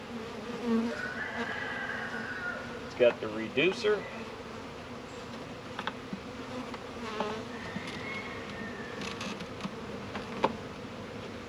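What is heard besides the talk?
honeybees buzzing at hive entrance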